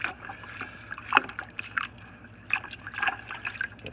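Filter media from a Fluval 406 canister filter is swished and squeezed in a bucket of siphoned aquarium water, giving close, irregular sloshing, splashing and dripping sounds with no talk.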